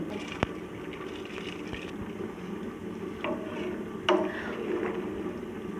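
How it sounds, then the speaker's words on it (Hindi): Rice boiling in a pot of water seasoned with cumin, a steady soft bubbling and simmering hiss with occasional small clinks and pops, close and continuous without speech. "अभी मैं चावलों को उबाल लेती हूँ।"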